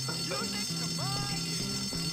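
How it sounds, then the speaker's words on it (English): A fire alarm pulled in the video game Bully: Scholarship Edition rings continuously and loudly, with a pulsing tonal pattern and some game sounds mixed in. "Pull the fire alarm."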